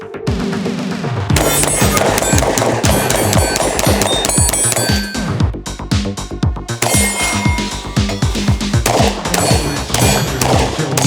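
Rapid shots from a Sig Sauer P365 AXG Legion compact pistol ring out in dense, loud volleys with sharp cracks close by, pausing briefly before another fast string of shots.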